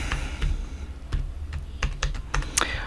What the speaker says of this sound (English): So I'm gonna type in my password